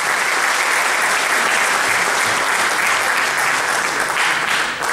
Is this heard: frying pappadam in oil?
no